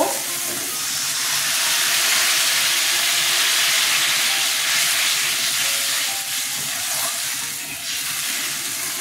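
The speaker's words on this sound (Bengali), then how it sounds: "মশলাটা কষানো হয়ে গেছে, তেল ছেড়ে দিয়েছে, জল দিয়ে দেব" Water hits hot oil and mustard spice paste in a pan, setting off a loud, steady sizzle and hiss that carries on for several seconds with a slight fade near the end, close up and with no voices.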